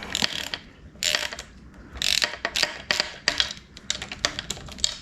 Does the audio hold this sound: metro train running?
no